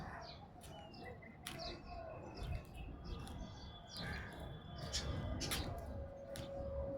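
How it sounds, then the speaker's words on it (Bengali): Small caged birds chirp and tweet at dawn, with scattered short calls and a few sharp clicks over a faint, low background. The calls are fairly distant and quiet, and a little low human sound is mixed in. "দেখবেন খালি আমার পাখির কিচিরমিচির শব্দ।"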